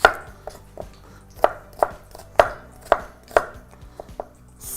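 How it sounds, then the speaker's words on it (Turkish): Onions being chopped with a knife on a board, about a dozen sharp taps at an irregular, unhurried pace, close and clear. "ben de soğanları doğrayayım"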